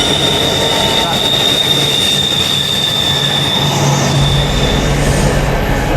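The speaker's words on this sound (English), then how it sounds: "That's rail freight going past at the moment" A loud freight train rumbles steadily past close by, with a sustained metallic wheel squeal running over the roar throughout.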